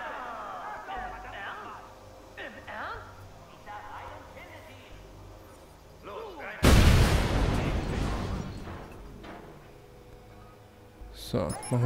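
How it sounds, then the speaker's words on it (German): A loud game explosion in Watch Dogs Bad Blood bursts partway through as an object is blown up, a sharp blast with a long rumbling decay, preceded by game effects and someone talking. "Das können wir auch noch sprengen."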